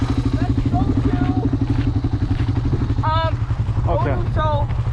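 Yamaha 350X and Blaster ATV engines race side by side in a second-gear rolling-start drag race, a loud, steady revving drone under shouted voices.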